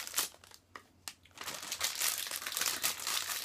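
Crinkly plastic packet of McVitie's Digestives Thins milk chocolate cappuccino biscuits being pulled open, a few sharp crackles then a sustained rustling and crumpling, close and fairly quiet.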